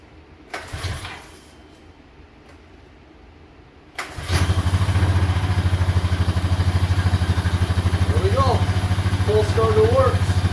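A 2015-or-later Honda Rancher 420 ATV is started on its pull starter: a few soft clunks from the pulls, then the engine catches and settles into a loud, steady, throbbing idle, with faint chirps late on.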